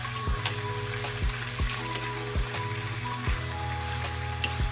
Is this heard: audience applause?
no